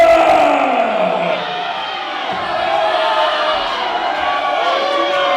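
Crowd at a staged fight event, Mike Lewis versus Chris Carter, shouting and bellowing in a dense continuous roar with rising and falling voices, fairly loud throughout and with no single clear speaker.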